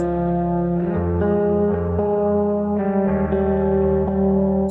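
A layered recorded guitar part run through distortion and reverb plays sustained chords in a future bass production, thick and smeared with echoing tails, changing chords every second or so with no voices.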